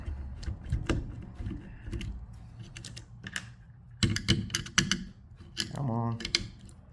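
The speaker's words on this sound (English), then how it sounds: "Let's take these two screws out." Screws being backed out of a guitar amp during a grill cloth replacement, heard as a run of small clicks and ticking scrapes in bursts, with someone talking over parts of it.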